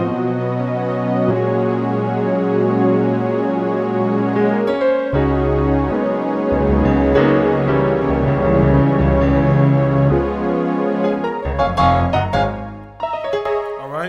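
A Nord Stage 3 keyboard plays a layered patch of sustained chords over a bass line, loud and continuous, with the harmony shifting several times and a brief dip near the end.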